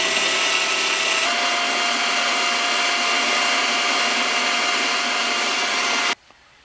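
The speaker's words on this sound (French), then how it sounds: "je vais percer à 8 mm de diamètre sur 5 mm de profondeur, juste pour cacher la tête de vis" A power drill bores an 8 mm counterbore into red cedar on a canoe build, giving a steady, loud whirring grind that runs for about six seconds, then stops abruptly.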